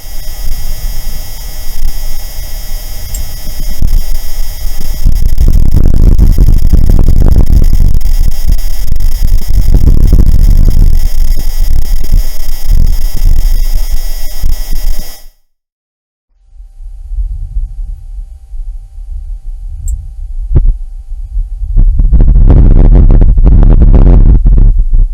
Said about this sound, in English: Perseverance has also captured breathtaking images and audio of Mars, allowing us to hear what Mars sounds like for the very first time.